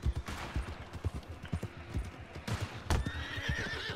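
Horses in the video game Red Dead Redemption 2 clop their hooves in a steady, close rhythm, with a loud whinny breaking in near the end.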